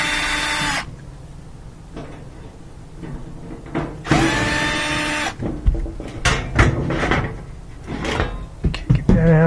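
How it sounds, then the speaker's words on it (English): Phillips head screws being driven out of a Whirlpool laundry center washer, with bursts of whirring from a powered driver between quieter handling and clunks. "I'm going to remove 2 Phillips head screws."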